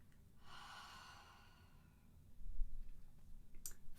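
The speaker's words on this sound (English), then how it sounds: "And exhale through the mouth." A soft, breathy exhale through the mouth during a guided meditation, a gentle airy rush lasting about a second and a half, followed by quieter low breathing noise; close and faint, no speech.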